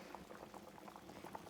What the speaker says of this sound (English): I don't want it bubbling too hard, so I'm going to turn it down some more.